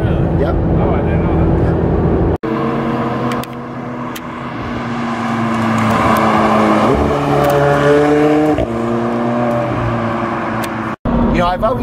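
A McLaren 720S twin-turbo engine revs and pulls hard, its tone climbing steadily through the gears with brief breaks between shifts, loud and close from inside the car.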